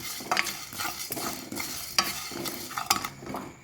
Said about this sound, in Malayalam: നമുക്ക് നന്നായിട്ട് വറുക്കാം വറുത്തെടുക്കാം